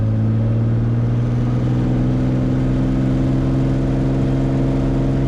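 Beechcraft Bonanza piston engine at full takeoff throttle, a loud steady drone with strong low harmonics and propeller whir, close and continuous with no talk.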